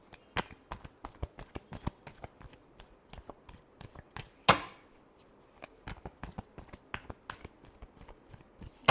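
Tarot cards riffled and shuffled by hand in a steady run of crisp flutters and taps, with one sharper snap midway, close and fairly quiet with no talking.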